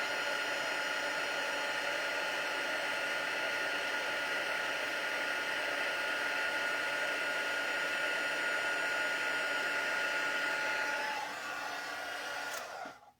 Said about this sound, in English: when I do emboss, the heat embossing, it never gets old